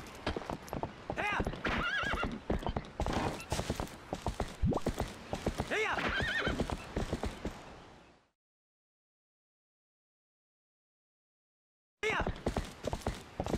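Horse neighing and hooves clip-clopping in The Legend of Zelda: Twilight Princess HD, loud and close with busy repeated hoof steps and whinnies, a long silent gap, then the hooves resume.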